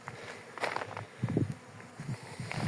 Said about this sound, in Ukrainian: бджоли трошки літають